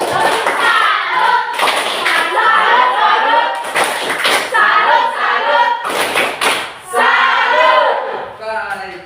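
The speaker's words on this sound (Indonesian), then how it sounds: "Berikutnya tepuk salut untuk kita semua." Classroom of students doing a rhythmic tepuk salut clapping chant, bursts of unison hand claps and thumps alternating with chanted voices in a repeating pattern, close and loud.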